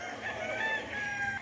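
Hens and roosters on a small farm cluck and crow faintly in the distance, a brief chorus of fowl calls over quiet outdoor background.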